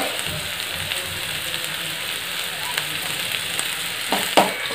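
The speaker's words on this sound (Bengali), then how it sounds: "সবজিগুলো সরিয়ে দিয়ে বাদাম ভাজছি" Peanuts frying in a pan give a steady close sizzle with crackling pops and a few stirring knocks, louder toward the end.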